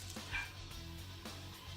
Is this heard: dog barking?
yes